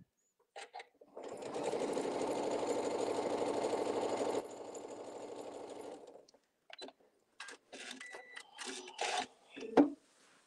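A sewing machine runs steadily for about five seconds while stitching fabric patches for a quilted table mat. It is loud, then eases off, followed by scattered clicks and handling noises.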